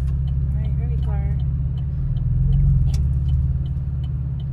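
Car traffic rumbles along a Las Vegas street, a steady low engine drone that swells briefly mid-clip, with a voice talking over it.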